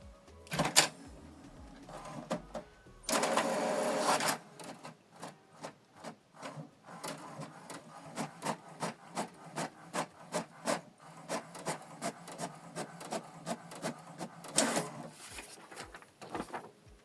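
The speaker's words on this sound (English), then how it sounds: "If you want to print a test page, then you need to select on the printer, then select print test page." HP Deskjet 2700 series inkjet printer running a test page: a loud feed whir at the start, then a steady train of rapid mechanical clicks and carriage rubs, with another brief whir near the end.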